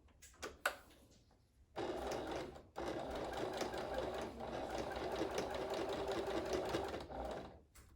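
A sewing machine stitches a line through a quilted headband, running in a steady mechanical whir for several seconds after a few short taps, with a brief pause partway through before it resumes.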